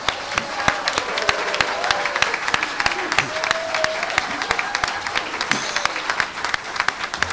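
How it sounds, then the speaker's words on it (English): Audience at a live event in Manchester breaks into steady applause, dense overlapping claps with sharper individual hand strikes standing out, holding at an even level throughout. "Big round of applause for the venue, everyone"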